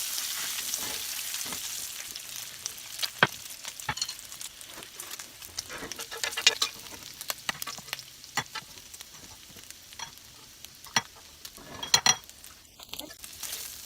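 Bacon sizzles and crackles in a greasy pan, a steady frying hiss broken by scattered spatula scrapes and metal clinks, close up with no talking.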